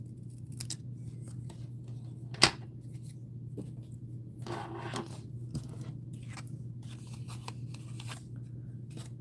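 Scissors cut paper straight for a flip-top card, giving quiet snips and rustles with one sharp click, close over a low steady hum, no talk.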